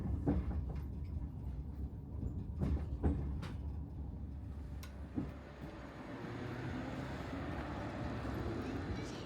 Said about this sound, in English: We are now approaching Lowestoft, where this train terminates.